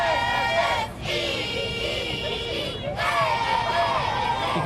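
A cheerleading team at a nighttime Christmas parade in Crossville, 2013, shouting and screaming together as they pass close by, with loud sustained group yells and two short breaks between bursts.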